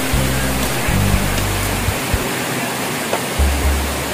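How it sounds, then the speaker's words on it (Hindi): Corbett Fall waterfall near Nainital roars in a loud, continuous rush of falling water, close and dominant, with low rumbling wind buffets coming and going. "देखिए झरना कितनी ऊंचाई से गिर रहा है।"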